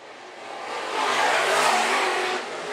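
Modified race cars roar past at Phillips County Raceway in a loud, swelling rush of engines that builds to a peak and then eases, heard alone without talk.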